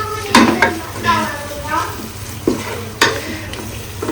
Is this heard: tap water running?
no